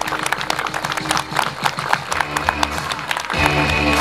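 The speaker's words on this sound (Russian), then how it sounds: "я прошу аплодисментами приветствовать" Guests at an outdoor wedding ceremony applaud as the groom enters, with mixed clapping and crowd noise over music, growing louder and fuller near the end.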